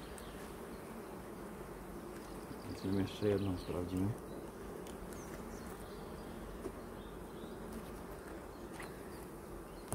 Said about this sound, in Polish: Pszczoły ładnie noszą, muszę to przyznać.